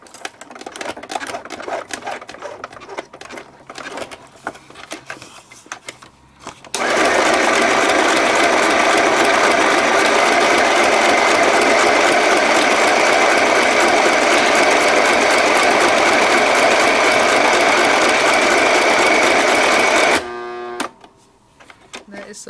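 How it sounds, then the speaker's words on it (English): A sewing machine stitches around the edge of a paper card in a steady, loud mechanical clatter that runs without a break for about thirteen seconds. Quieter handling noises come before and after it. "Let me do a little sewing around this edge"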